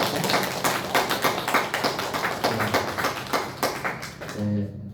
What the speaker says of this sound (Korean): 자, 박수로 맞이해주시기 바랍니다.